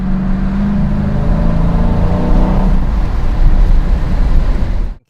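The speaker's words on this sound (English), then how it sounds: "The musical notes that come through this exhaust are exhilarating." A 2019 Dodge Challenger R/T Scat Pack exhaust rumbles deep and loud up close, a steady heavy burble swelling slightly before cutting off abruptly at the end.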